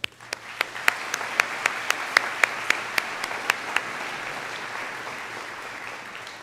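A large audience applauds at a school commencement ceremony, a broad continuous rush of distant clapping, with one nearer pair of hands clapping sharply and evenly over it before stopping partway through.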